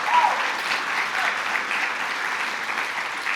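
An audience at a library author event applauds in a short, steady wash of clapping that stays even throughout the brief stretch.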